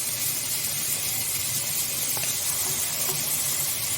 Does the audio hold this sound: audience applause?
no